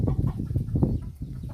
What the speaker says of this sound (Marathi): कोंबड्यांची कणीस खाण्यासाठी गडबड चालू आहे बघा.